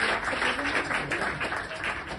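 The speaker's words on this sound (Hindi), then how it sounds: "एक बार जोरदार तालियां स्टूडेंट्स के लिए" An audience applauds students at a foundation day celebration, a brief, dense wash of clapping at steady strength with no voices over it.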